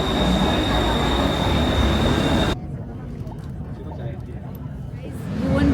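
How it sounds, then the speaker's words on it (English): A Bangkok Skytrain roars loudly into the station, a dense rumble with a high whining tone that suddenly drops away, leaving quieter station ambience before the noise swells again at the end. "Waiting for our train."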